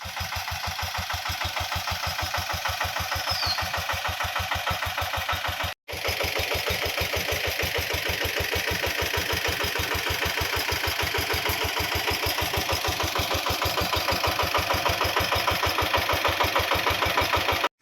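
A VST power tiller engine runs steadily at a fast, even chug, loud and close, with a brief cutout near six seconds before it carries on unchanged; no voices.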